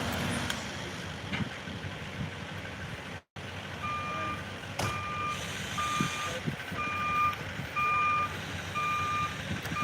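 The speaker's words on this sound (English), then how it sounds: "Looks like they're backing up this truck." A truck reverses at a house demolition site, its backup alarm sounding a steady series of evenly spaced beeps at moderate distance over the low rumble of the engine and general site noise.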